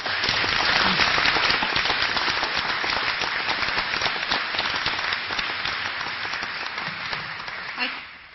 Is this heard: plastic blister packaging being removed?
no